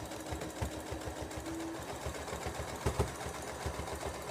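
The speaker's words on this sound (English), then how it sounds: "Set your machine on a basting stitch. And sew straight down the middle." A sewing machine runs a basting stitch straight down the middle of a towel, with a steady, quiet mechanical chugging throughout.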